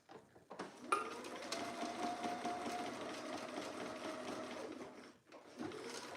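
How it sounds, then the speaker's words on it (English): Sewing machine running steadily as it stitches in the ditch along a dress seam, a fairly close, continuous motor whir with brief starts and stops at each end. "I am sink stitching or stitching in the ditch"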